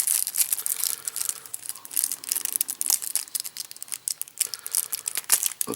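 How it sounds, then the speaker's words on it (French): Plastic-wrapped cards from The Thing: Norwegian Outpost board game being unwrapped, close crinkling, crumpling and tearing of cellophane in busy irregular bursts throughout, no voices. "Alors, on va les ouvrir, ces cartes."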